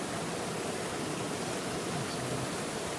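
A mountain creek pours into a larger creek, Battle Axe Creek, making a dense, constant rush of water that stays close and loud throughout with no pauses.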